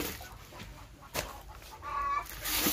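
Chickens kept for egg laying cluck softly at a farm, short scattered calls over a steady background hum, with one brief clearer cluck near the end.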